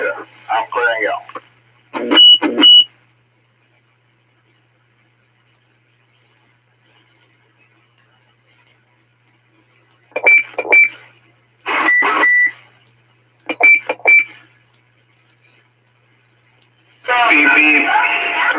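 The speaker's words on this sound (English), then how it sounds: "Get out of here with all that beep beep." Electronic beeping tones sent over an amateur radio channel, heard in several short bursts separated by silence, with radio chatter and a burst of static noise near the end.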